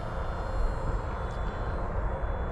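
FMS Cessna 182 1.5 m RC model airplane flying slow with full flaps extended, a steady electric motor and propeller drone heard outdoors at moderate distance, continuous with no talk.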